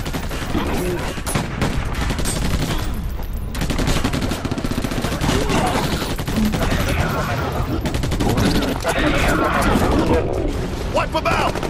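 Dense, continuous gunfire in the PC game Battle: LA, rapid automatic bursts and shots rattling loudly throughout, with voices shouting over the constant fire.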